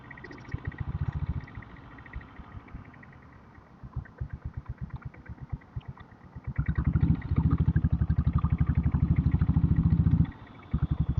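Diesel Royal Enfield Bullet motorcycle thumping slowly through Chennai city traffic, a rhythmic low chug that idles, then swells louder as the throttle opens, with distant street noise around.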